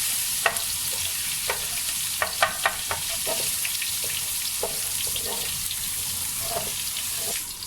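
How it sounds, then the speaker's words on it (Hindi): Garlic sizzles steadily in a hot pan over a full flame for chicken fried rice, with a constant frying hiss broken by sharp scrapes and clicks of a spatula stirring. "ये लहसुन डाल देंगे, लहसुन को हमने ब्राउन नहीं करना है।"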